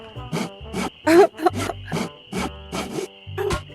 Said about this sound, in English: Let's try sawing it.